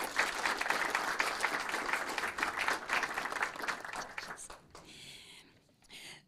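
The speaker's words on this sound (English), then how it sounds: "Let's give her an astounding round of applause." A city council audience applauds the Public Works Director, sustained clapping from a roomful of people for about four seconds before it thins out and fades, leaving a few scattered claps and quiet room noise.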